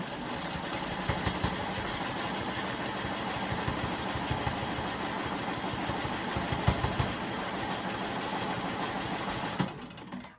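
A sewing machine stitches a straight line along a quilt border guided by a ruler, its steady rapid needle hum running continuously for about ten seconds before stopping abruptly at the end.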